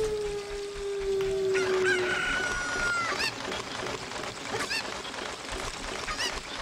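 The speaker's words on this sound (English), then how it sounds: "Take the chicken with me." A chicken in The Legend of Zelda: Ocarina of Time crows loudly with a long rooster call, then clucks and squawks in a busy run of calls over a steady game background.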